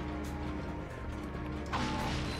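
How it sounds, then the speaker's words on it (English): A rotating machine mechanism in Ratchet and Clank: Going Commando grinds and clanks with a ratcheting, creaking mechanical texture, steady and close, with no speech. "That little rotating machine."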